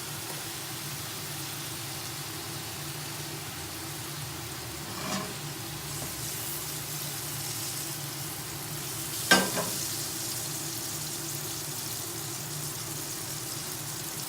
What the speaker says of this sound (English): We're gonna add a little more oil, and we're gonna add a little bit of butter.